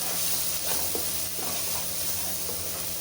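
MTR garam masala roasting in a pan for boti gojju gives a steady, close sizzle and hiss with faint stirring scrapes, continuous throughout.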